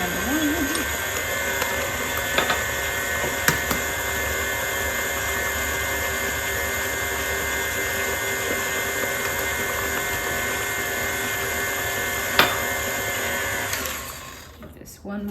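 An electric mixer beats cookie dough for Valentine's Day cookies. Its motor gives a steady, loud whir for about fourteen seconds, with a few faint clinks against the bowl, then winds down and stops near the end.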